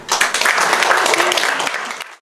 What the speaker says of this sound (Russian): Поэтому я бы сейчас хотела посвятить эти аплодисменты учителям.